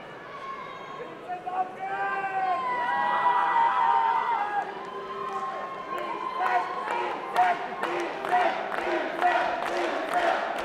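A crowd at a kickboxing event in Ingolstadt cheers and whoops, with shouts swelling through the middle and sharp claps and bursts toward the end, loud and close, while voices carry through the hall.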